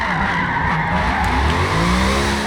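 Tires squeal and skid continuously on a 2018 TVR Griffith drifting in a Forza game, the engine droning loudly underneath with shifting pitch, with no talking.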